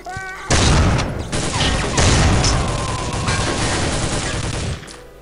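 Loud, sustained gunfire and booming impacts in the video game Soldier of Fortune II: Double Helix, dense bursts filling several seconds before cutting off abruptly.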